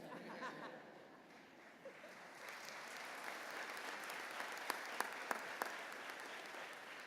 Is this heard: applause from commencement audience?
yes